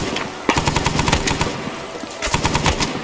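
Machine gun fire in the military shooter Arma, set in a Vietnam-era firefight, with rapid sustained bursts of sharp shots, a pause, then another long burst, loud and close.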